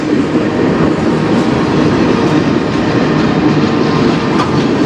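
Steady close rumble of a CN freight train's cars rolling by in Sarnia, Ontario, with continuous wheel clatter on the track and a constant loud roar, no talking.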